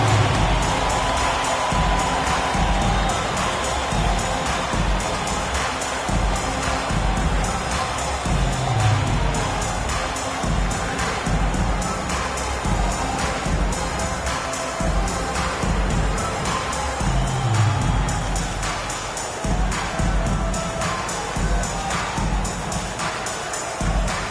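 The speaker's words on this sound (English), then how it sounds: "Please give a big round of applause for your next team." A basketball arena crowd at an East versus West All-Star game keeps up a steady, fairly distant wash of applause and cheering.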